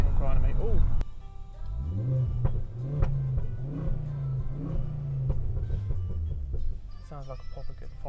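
A Ford Focus ST five-cylinder engine pulls hard on a national speed limit road, its close in-car drone climbing in pitch through the gears with a sharp break near the start, while a voice talks over it.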